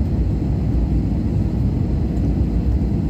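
A passenger airplane taxis after landing at Chandigarh Airport, giving a steady, loud low cabin rumble and engine drone with no talk.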